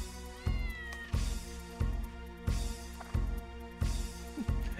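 Cat meowing in the video game Dark Cloud, a series of six or seven evenly spaced, clear meows repeating in a steady rhythm over quiet game music.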